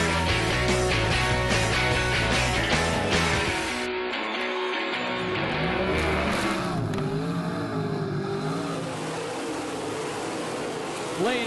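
Modified race cars roar around a dirt track in Marshalltown, Iowa, running side by side, their engines a loud, buzzing, rising and falling drone with passing-by sweeps, while an announcer talks over the action.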